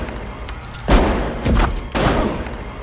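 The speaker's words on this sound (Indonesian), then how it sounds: "Debbie menembak Mickey berkali-kali" Three loud, sharp gunshots ring out in quick succession in a Scream film scene, each with a booming echo trailing off.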